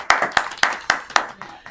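Audience applause for a poet at a Hindi poetry recital: about seven sharp, evenly spaced claps from a small group, close and fairly loud, with no talking.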